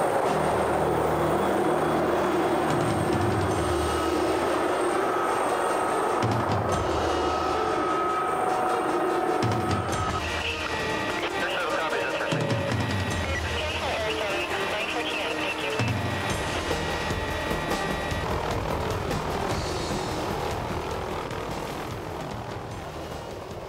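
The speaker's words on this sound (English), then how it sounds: "it's very hard to hear while inside a noisy helicopter" Loud, constant rotor and engine roar fills the cabin of a police helicopter in flight, with muffled voices talking beneath the din.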